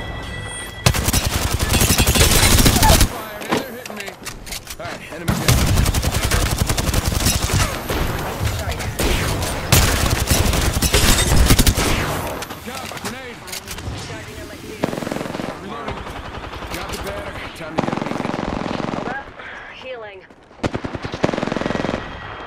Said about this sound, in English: Man, I'm taking fire.